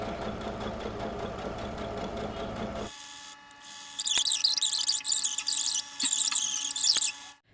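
A sewing machine stitches a seam in kameez fabric, first running with a steady rapid rattle, then after a short pause resuming in choppy, uneven bursts of stitching close by.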